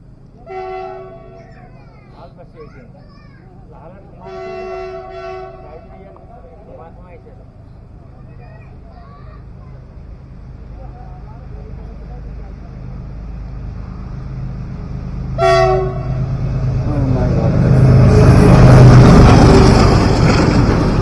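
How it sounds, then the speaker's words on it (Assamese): A train in rural Assam sounds its horn in several blasts as it approaches, then its rumble swells into a loud, close passing roar, with people talking over the early part. "ট্ৰেইনখন আহিছে,"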